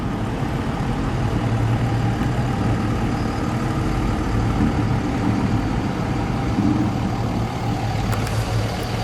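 A white 1967 Dodge Dart 270 with a 273 V8 and four-barrel carburetor runs at a steady idle, a constant low rumble that stays even and fairly loud throughout.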